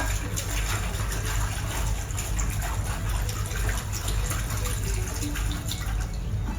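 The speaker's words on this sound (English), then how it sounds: "I'm just going to wet the scarf out first, so when I put it in the dye can adhere better" Silk scarf being wetted out in a tub of water with a little soda ash before indigo dyeing, making continuous close sloshing and splashing with no pause.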